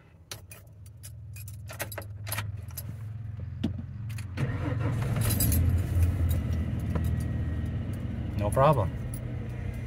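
Old Ford OBS truck with keys jangling and clicks as the engine cranks and catches, then settles into a steady, rumbling idle close by, with a brief spoken reply partway through.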